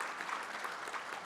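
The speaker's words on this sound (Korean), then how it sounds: "박수 한번 주십시오." A forum audience at a financial conference panel gives a brief round of applause, soft and distant, a short even patter of many hands.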